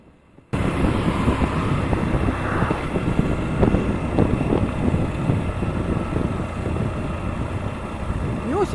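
A Yamaha FZ-S Hybrid motorcycle is ridden at top speed carrying a heavy load. A loud, steady roar of engine and wind buffeting starts abruptly and keeps up without a break, with a rider's voice partly heard underneath.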